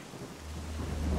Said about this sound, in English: this rain is making everything more scary